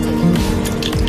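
Water being poured into a bowl of flaxseeds, a steady close liquid splashing and squishing that carries through the whole moment.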